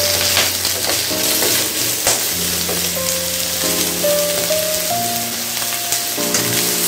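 Pirandai (adamant creeper) sautéing in a pan for chutney: a constant gentle sizzle and faint stirring under steady background music, with no speech.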